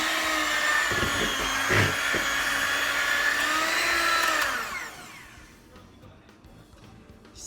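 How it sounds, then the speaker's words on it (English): An electric mixer whirs loudly through chocolate cake batter with a steady motor drone that shifts slightly in pitch as it works, then cuts off after about four and a half seconds, leaving quiet kitchen background. "now we are going to use a blender"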